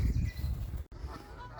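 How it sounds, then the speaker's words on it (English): Geese honk loudly on a lake, overlapping and close, with ducks mixed in. The calls break off for an instant midway and then continue more faintly. "It's got plenty of geese and ducks on there."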